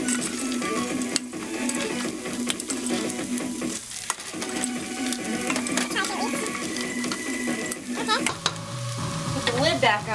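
Tofu scramble with potato, broccoli and mixed vegetables gets stirred in a sizzling pan, with a spoon scraping and clacking repeatedly against the pan over a steady frying hiss.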